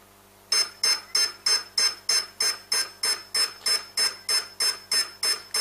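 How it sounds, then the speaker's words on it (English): A brushless motor ESC with no input signal emits a steady series of about fourteen loud, sharp electronic beeps at an even rhythm, heard alone and up close. "Ignore the obnoxious beeping that's going to happen. That's just the ESC saying that it can't find any signal."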